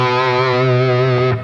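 Heavily distorted electric guitar in standard tuning plays a short phrase of a riff: a loud, sustained, buzzing tone with chorus-like shimmer that cuts off sharply near the end, close and alone.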